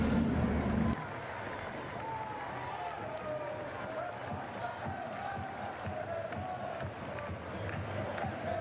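Crowd at a Tuesday night Irish Premiership match at Solitude in North Belfast, Cliftonville against Larne, a steady distant murmur of spectators under a commentator's voice.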